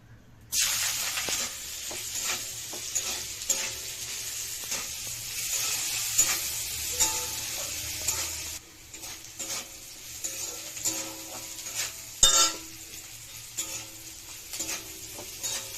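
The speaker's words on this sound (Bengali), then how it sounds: "গাজরটা সহজে ভাজা হয় না, আলু ভাজা হয়ে গেছে" Diced carrot and potato fry in a pan for chowmein, a continuous hissing sizzle broken by intermittent stirring scrapes and clinks of a spatula, with one sharper knock near the end.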